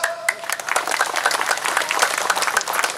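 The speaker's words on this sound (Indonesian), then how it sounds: "Sekali lagi, aplaus." A crowd at a May Day labour rally applauds, with dense, steady clapping from many hands that stays loud and close throughout, with a voice briefly audible underneath.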